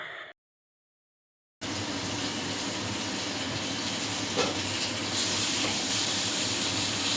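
Food fries in a pan at home, a steady sizzling hiss that starts abruptly after a brief silence and holds at moderate loudness, with a faint clink partway through.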